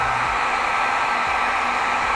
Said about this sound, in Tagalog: tutukan lang ng blower